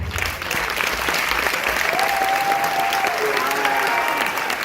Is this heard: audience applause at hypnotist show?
yes